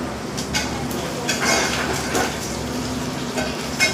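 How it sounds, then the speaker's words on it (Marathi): Onions and chopped green chillies frying in hot oil in a pan while making Diwali chivda, a soft steady sizzle with occasional stirring scrapes and light clinks of a utensil. "आता तिन्ही साहित्य एकजीव छान तेलात परतून घ्यायचं आहे."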